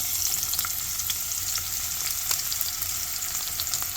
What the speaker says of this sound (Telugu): ప్యాన్లో నూనె వేసి జీలకర్ర వేసేసాను. అలాగే కొన్ని ఆనియన్స్ కూడా వేసేస్తున్నాను.